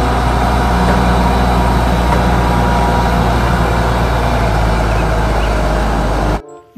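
A toy truck gives off a steady, loud, low truck-engine idle that rumbles on without a break, then cuts off abruptly near the end.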